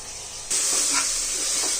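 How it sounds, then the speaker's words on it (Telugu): Onion and green chili paste frying in a pan for mutton brain curry, breaking into a sudden, steady, loud sizzling hiss that carries on close by without any talking. "వేగింది చక్కగా, పచ్చివాసన పోయి చక్కగా వేగిపోయింది."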